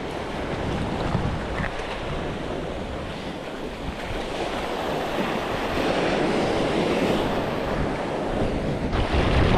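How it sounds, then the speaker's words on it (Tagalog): Open ocean surf rushes around a fishing boat at sea, a continuous roar of wind and churning water with swelling wave noise that builds slightly toward the end, loud and close to the microphone. "Abutan nga natin yung basagan ng alon."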